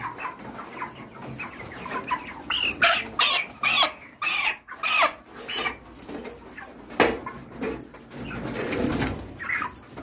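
Chickens cluck and birds coo nearby in short bursts and a few sharper calls, with a soft, steady background hum and no talking.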